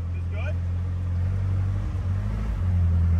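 An E30 car being loaded onto a trailer, its engine rumbling low and steady close by as it creeps up the ramp, with people talking over it.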